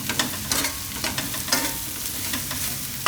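Spoon stirring turmeric, salt, coriander-cumin powder and red chili into cauliflower in a hot pan, with a steady scraping rhythm over a continuous sizzle and no talk.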